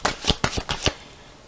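Tarot cards shuffled by hand during a daily tarot reading, about six quick close papery slaps and riffles in a short uneven burst, then a brief pause and one more at the end.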